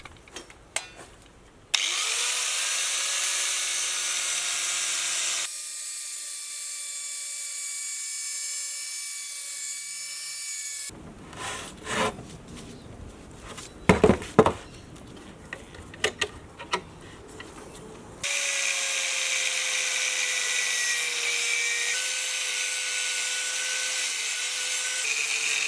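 A 50mm metal bar being cut in half in a workshop, with long stretches of steady grinding cut noise broken by a gap of scraping, knocking handling sounds.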